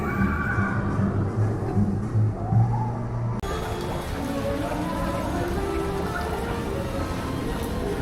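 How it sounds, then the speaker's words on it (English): Steady rain patters on a theme park ride and a mobility scooter in stormy weather, with a dense hiss that continues throughout and a low hum and faint voices in the first few seconds. "the situation right here, this is rain"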